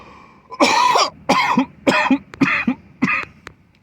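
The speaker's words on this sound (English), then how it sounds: "Sorry for the coughing." Five harsh coughs in a row, loud and close, each a short rough burst with brief gaps between.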